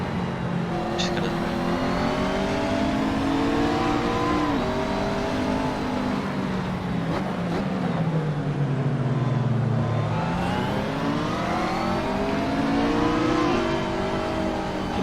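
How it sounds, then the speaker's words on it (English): BMW GT race cars accelerating on a race track, engines revving up through rising and falling pitch sweeps, loud and close, with a voice talking over the engine noise. "Green flag for GT3. BMW start rolling."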